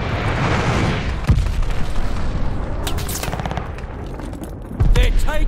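Enemy glide bomb and gunfire in Call of Duty: Vanguard: bursts of loud, close gunfire and booming impacts, rattling machine-gun fire, then a heavy blast near the end, with shouting voices mixed in.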